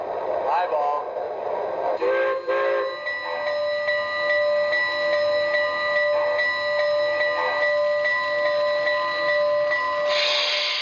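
A bell on an MTH ready-to-run model train locomotive rings steadily and close as a bright, sustained metallic tone with overtones that lasts the whole stretch. Faint mechanical sounds run underneath.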